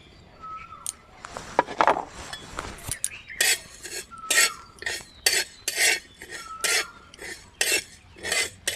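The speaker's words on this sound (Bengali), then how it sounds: "এবার বন্ধুরা মশলাটা ভেজে নেব উনান জ্বালিয়ে নিয়েছি একটা কড়াই বসিয়ে দেবো" Whole fennel seeds, fenugreek and cumin dry-roasted in a wok over a stove, with repeated rhythmic scraping and stirring strokes of a spatula against the metal, fairly close and steady, with no talking.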